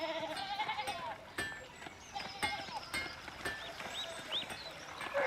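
Sheep bleat among clip-clopping animal sounds on a farm path in the game Pentiment, a cluster of short, fairly close calls over rustling ambience, with a faint voice at moments.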